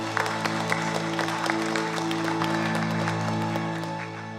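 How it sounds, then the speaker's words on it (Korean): Congregation applause during a Korean Wednesday church service, steady clapping over a sustained organ or keyboard drone, fairly loud and continuous throughout. "우리 주님께 영광의 박수 올립니다."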